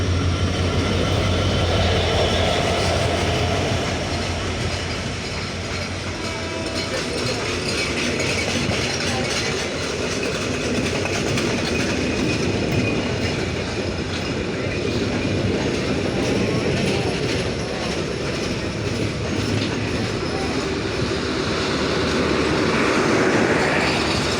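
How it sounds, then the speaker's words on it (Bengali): The Simanta Express rolls through hauled by American-built locomotive 6630 with its short hood leading, a loud continuous rumble of wheels and carriages with rhythmic clickety-clack and metallic rattling passing close by for the whole stretch. "আমেরিকান জয়েন্ট লোকোমোটিভ নিয়ে আসতেছে শর্ট হুডে ছেষট্টি তিরিশ লোকোমোটিভ নিয়ে"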